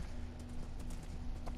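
Horse hooves clip-clop in the Minecraft video game as a horse runs, rapid soft hoofbeats repeating under a noisy, constant background.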